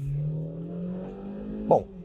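A Hyundai Creta 1.6 with a CVT gives a steady, strained engine drone under acceleration, droning at a constant pitch and ending with a brief louder swell.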